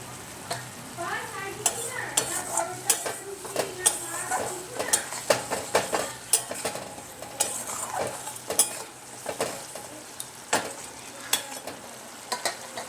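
Spice paste fries in a pan for a Bengali prawn and potato curry, with a steady sizzle and bubbling under repeated close clinks and scrapes of a spoon stirring against the metal.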